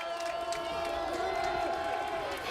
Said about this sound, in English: This Tennessee Stadium crowd is starting to make a little noise here.